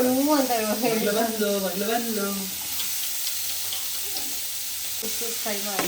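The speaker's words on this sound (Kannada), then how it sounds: "ಅದಕ್ಕೆ ಎಲ್ಲ ಒಂದು ಚೂರು ಚೂರು ಹಂಗೆ ಫ್ರೈ ಮಾಡೋಣ" Vegetables fry in a pan with a steady, close sizzle; a voice talks over it for the first couple of seconds, then the hiss of the pan carries on alone.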